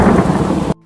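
A thunderstorm with heavy rain roars loudly, a dense low rumble of thunder over rain hitting surfaces, then cuts off abruptly after under a second.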